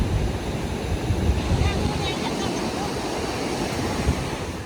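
Ocean surf washes along the shore at Torrey Pines in San Diego, a steady broadband roar of waves mixed with wind buffeting the microphone.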